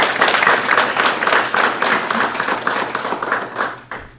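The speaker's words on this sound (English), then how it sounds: "Round of applause for those officers." A crowd applauds police officers at a mental health talk, with dense, steady clapping that stays loud for about four seconds before thinning and fading out at the end.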